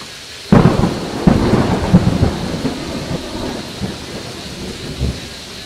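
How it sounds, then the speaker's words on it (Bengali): Close thunder cracks and rumbles during a nighttime thunderstorm near a house, with a sharp strike near the start and further rolling booms over steady rain, loud and near. "ঘরের কাছেই একটা বাজ পড়ল।"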